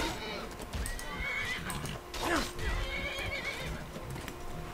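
A horse in Skyrim whinnies once with a clear rising-and-falling call near the middle, among game sounds and hoof clatter, with someone talking around it.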